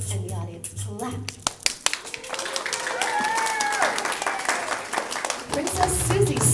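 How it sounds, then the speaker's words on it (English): An audience at a children's princess camp show bursts into loud, steady applause that swells and continues, with scattered hand claps and a little crowd noise. "And the audience clapped."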